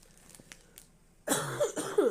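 A quiet lead-in with faint rustles, then two harsh, dry coughs from a person with a cold, close to the mic, the second one slightly sharper.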